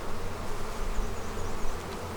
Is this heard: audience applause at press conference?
no